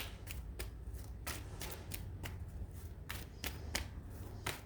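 Oracle cards are shuffled by hand in a steady run of crisp riffling snaps and slaps, close and moderately loud, repeating at an uneven rhythm with no talking.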